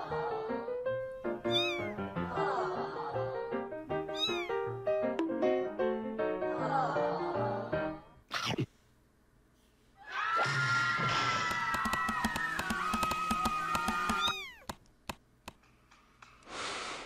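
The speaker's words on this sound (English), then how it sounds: "All right, it's a kitty cat." Cartoon cat meowing repeatedly in a Five Nights at Freddy's Security Breach animation, loud rising calls over busy music, then a brief pause before a long, strained, wavering meow.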